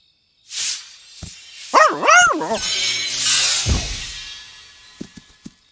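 A voice imitates a dog with a few sharp barks and yips, close up, followed by a brief whine and scattered clicks.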